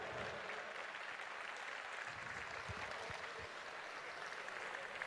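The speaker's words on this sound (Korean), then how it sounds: "큰 박수 다시 한번 부탁드리겠습니다" A large crowd at a Democratic Party presidential campaign launch rally gives faint, distant, continuous applause, a steady wash of clapping with a few low murmurs beneath it.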